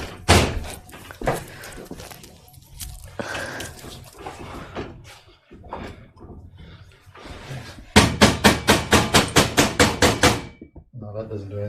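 A hammer strikes something in a room, with a scattering of irregular thuds and knocks under people talking, then a fast, loud run of about a dozen even blows close by.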